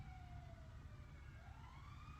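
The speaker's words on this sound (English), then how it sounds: "Oh, that's 2 sirens. There's probably a chase. One sounds like an ambulance." Police and ambulance sirens wail together in a GTA roleplay game, two rising and falling tones overlapping over a steady low rumble, moderately distant and continuous.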